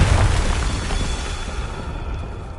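A Confringo blasting spell explodes in Hogwarts Legacy, a single loud booming burst that starts at full force and decays into a fading rumble over a couple of seconds.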